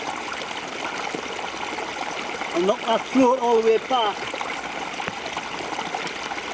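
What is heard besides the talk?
fast-flowing stream water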